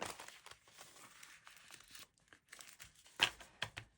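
Sheets of junk paper folded into journal signatures, soft crinkling and rustling in uneven bursts with a sharper crisp crease near the end, close and quiet.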